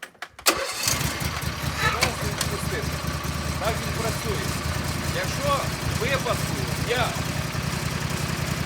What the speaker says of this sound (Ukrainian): Трактор завести, якщо я не сиджу на сідушці, завести неможливо, він не заводиться.